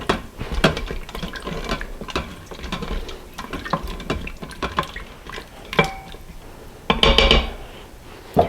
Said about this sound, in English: I'm going to use my spatula and stir that around